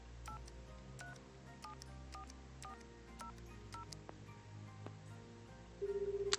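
Touch-tone keypad beeps from a phone in Shenmue III sound one after another in an irregular sequence over a low hum, ending with a brief repeated tone.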